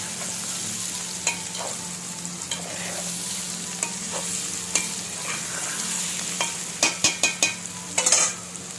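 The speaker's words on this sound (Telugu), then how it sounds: "వేయించిన గుడ్లు ఇందులో వేస్తే చిన్నగా తిప్పాలి." Fried eggs being gently stirred in a sizzling pan for an egg tamarind curry, a steady hiss underneath with scattered utensil scrapes and a quick run of louder clinks near the end; no voices.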